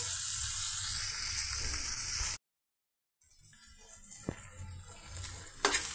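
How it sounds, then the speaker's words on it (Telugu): Pieces frying in oil for ragi atta upma, a steady close sizzle that cuts out briefly to silence and then returns with faint stirring clicks. "ఈ విధంగా ఆయిల్తో ఈ పీసెస్ అన్నీ ఫ్రై అవుతున్నాయండి"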